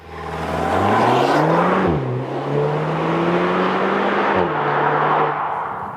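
Volkswagen Tiguan R with 320 hp, in normal driving mode, taking a roundabout: a steady engine drone from inside the cabin that rises, dips briefly with gear changes near two and four and a half seconds, then carries on evenly.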